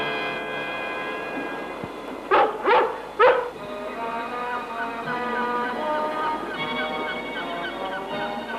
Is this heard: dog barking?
yes